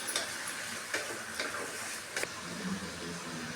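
Green chillies frying in hot oil in a home kitchen, a steady close sizzle with faint clicks and stirring taps breaking through it now and then.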